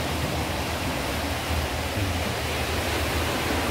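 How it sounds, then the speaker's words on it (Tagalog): Strong water rushes and churns beneath a bridge at night, a loud, dense, unbroken roar of waves with no pauses or other sounds. "sobrang lakas ng alon ng tubig yan"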